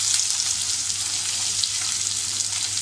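Chopped onion drops into hot oil with mustard seeds and curry leaves in a pan, giving a loud, continuous, close sizzle with a faint low hum underneath and no talking.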